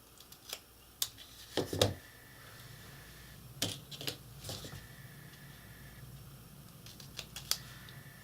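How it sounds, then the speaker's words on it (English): A blade cuts small wedges from slipcase board, heard as faint, close, sparse clicks and sharp scraping snips spaced irregularly over a quiet background. "Each time we're just cutting out a little wedge."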